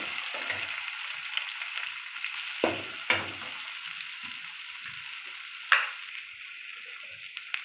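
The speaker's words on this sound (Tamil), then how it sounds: "இப்போ வெங்காயம் போட்டுக்கலாம்" Chopped onion frying in oil in a pan for a prawn dish, a soft steady sizzle near the mic, with three or four sharp scraping stirs standing out and no voices.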